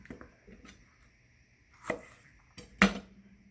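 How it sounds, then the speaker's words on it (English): A kitchen knife slices onion finely on a cutting board, producing sparse, uneven taps and thuds, with two sharper chops near the end, close and quiet, without talk. "we're going to very, very finely slice this"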